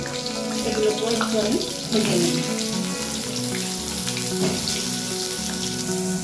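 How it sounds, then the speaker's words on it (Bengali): Potatoes hiss and crackle in hot oil in a wok with a loud, continuous fry and watery-sounding spatter, as a voice speaks briefly over it. "আলুগুলো কড়াইয়ে দিয়ে দিলাম"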